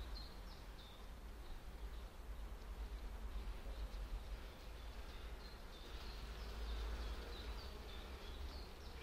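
Honeybees humming steadily around an opened hive of a new split with queens being introduced, a faint continuous buzz with occasional higher whines of individual bees passing close, no talk.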